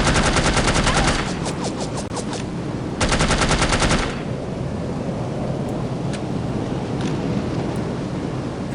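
Two loud bursts of rapid automatic fire from No One Lives Forever, a fast stuttering rattle lasting about a second each, separated by a short gap, then a wash of quieter ambient rumble.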